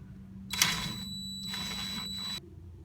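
A hand ratchet twists a sway bar link nut off a 2009 Honda Pilot's suspension, giving two short runs of quick, close metallic clicking separated by a brief pause.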